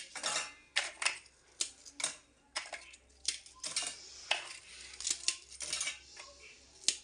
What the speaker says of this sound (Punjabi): ਇਹਨਾਂ ਨੂੰ ਆਪਾਂ ਜਾਰ ਦੇ ਵਿੱਚ ਪਾ ਲੈਨੇ ਤੋੜ ਕੇ ਆਪਾਂ ਜਾਰ ਦੇ ਵਿੱਚ ਪਾ ਲੈਨੇ